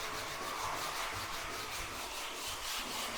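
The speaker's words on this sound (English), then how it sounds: "Let me get the sandpaper out and see if that works better." Sandpaper rubbed by hand across a house floor while scraping off an old finish, a steady close scratchy rasp continuing without pause.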